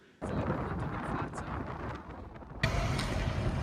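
Strong 16-knot headwind buffeting a sailboat pushing through the Lefkada channel against current, a loud roaring rush of wind noise over the microphone that surges sharply louder near the end.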